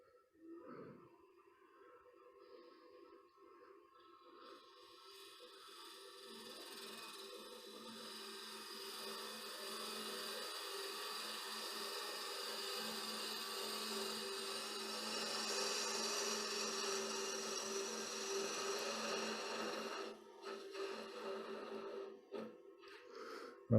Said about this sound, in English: So I'm just going to part away half of the thread.